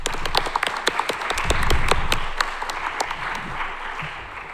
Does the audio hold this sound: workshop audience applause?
yes